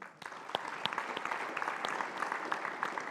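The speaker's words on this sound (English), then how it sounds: "So round of applause for them." A live audience at a university national security speaking event breaks into steady, dense applause that holds at an even level throughout, with no talking over it.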